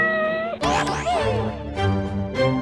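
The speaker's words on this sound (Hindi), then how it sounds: "बिल्ली की आवाज कहाँ से आ रही है?" A cat meows inside a godown, a few drawn-out, sliding cries over steady background tones, fairly close and clear, with no talk over them.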